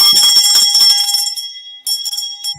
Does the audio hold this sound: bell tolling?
yes